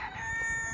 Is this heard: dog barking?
no